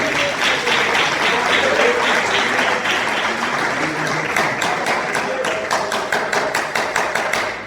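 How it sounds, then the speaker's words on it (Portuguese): A church congregation claps steadily and cheerfully during a Holy Communion service, dense hand claps filling the room at full volume with faint voices mixed in and sharper individual claps standing out toward the end. "Palmas bem alegres para Deus."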